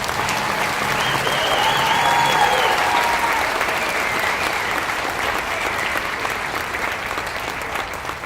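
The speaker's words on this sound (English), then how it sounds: "So please let's give Ms. Feliciana Martinez a round of applause." Steady, dense applause from an audience in a school auditorium during a student recognition ceremony, holding at an even level for several seconds with faint voices mixed in.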